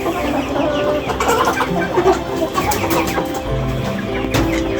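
Native and Tiger Sasso chickens clucking on a village farm, several birds calling in overlapping bursts at close range with steady background farm noise.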